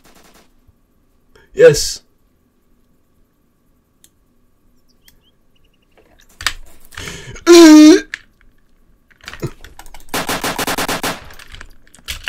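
Machine gun fire in the Roblox game Apocalypse Rising, a fast loud rattling burst near the end after scattered single sharp shots, with a voice speaking briefly amid otherwise quiet gaps.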